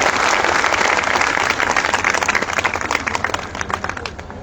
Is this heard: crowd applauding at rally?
yes